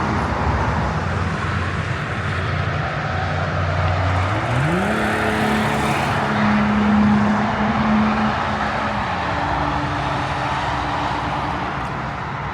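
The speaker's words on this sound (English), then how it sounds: "Watch the traffic bathed in the moonlight." Steady roadway traffic drones past at night beside the Brown Motel along I-40, a continuous broad rumble with one vehicle's rising engine tone swelling through the middle, no voices.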